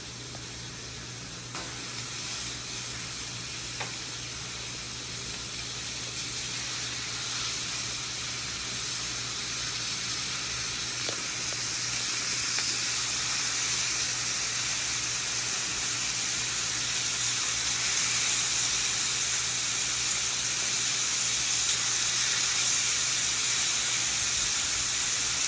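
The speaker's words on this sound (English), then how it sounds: "We'll take our steaks, lay them in there." Seasoned steaks rubbed with Tex Joy steak seasoning sizzle in a hot pan, giving a steady, even hiss that holds unbroken for the whole stretch with no talking.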